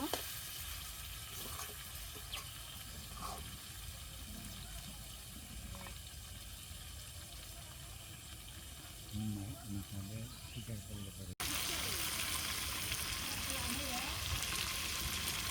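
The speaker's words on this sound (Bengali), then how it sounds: "মাংসগুলো কষানো প্রায় হয়ে গেছে, আর একটু কষানো হলে পরে আলুগুলো দিয়ে নিব" Meat is sautéed (bhuna) in a pan with a soft, steady sizzle and occasional scraping of the spoon, then the frying suddenly grows much louder and brighter toward the end.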